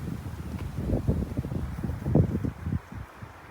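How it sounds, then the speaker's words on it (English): Gusts of wind in an outdoor garden buffet the microphone in uneven low rumbling bursts, swelling and fading over a few seconds. "There's some big gusts of wind, so hopefully that doesn't mess up the audio too terribly much"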